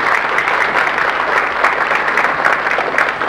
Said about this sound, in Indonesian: Terima kasih dan tepuk tangan buat adik-adik kita dari Jepang ini.